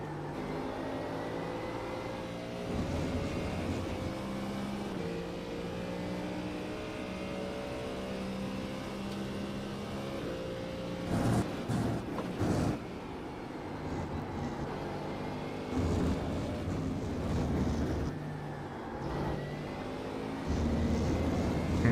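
A Ford Mustang GT3 race car engine at the Red Bull Ring in iRacing drones steadily, its pitch rising and falling through gear changes and throttle lifts, with a few brief bursts of louder noise.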